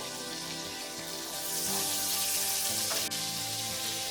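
Oil and butter, one teaspoon each, heat in a pan for paneer bhurji and give off a steady close hiss and crackle. The sizzle grows a little stronger partway through, with no talking.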